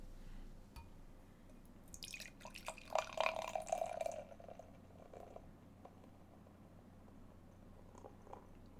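An Imperial Stout beer is poured into a glass in a quiet room, giving soft glugging and fizzing with a brief bubbling trickle that swells in the middle and then fades back to near silence.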